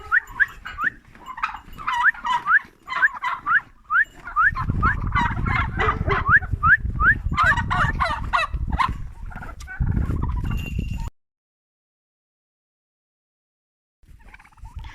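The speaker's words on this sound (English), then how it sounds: "This year, the turkeys are here in the duck pen." Farm turkeys kept in a duck pen gobble close by in rapid, repeated bursts over a heavy rustling and wind-like rumble, going quiet after about eleven seconds before a brief return of noise.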